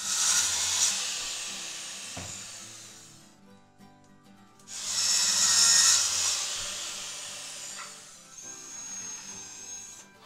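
Two long bursts of broadband rasping from a saw cutting hardwood legs for a plant stand, separated by a short quieter pause with faint tool hum, then a softer third stretch.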